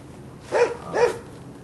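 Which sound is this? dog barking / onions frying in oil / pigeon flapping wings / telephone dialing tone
dog barking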